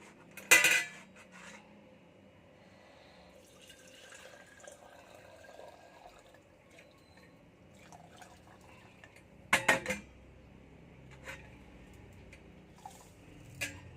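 Ginger tea goes into a teapot with two sharp clinks of a utensil against the pot, one at the start and one near the end. Softer taps and faint handling noises fill the quiet stretch between them.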